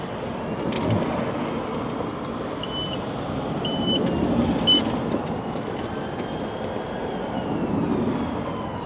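A vehicle drives with a low, steady rumble of engine and road noise heard from inside, swelling slightly midway, with a few faint high beeps and no speech.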